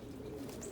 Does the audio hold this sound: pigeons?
yes